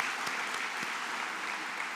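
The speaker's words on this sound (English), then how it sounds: "let's give him a round of applause even though he's not here" An audience at an awards celebration claps together in a steady, dense round of applause that fills the room without pause.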